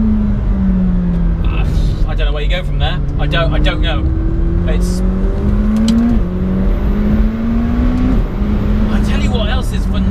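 McLaren 720S turbocharged supercar engine revving and climbing through gears with quick shifts, a loud steady drone rising in pitch, heard from inside the cabin while someone talks over it.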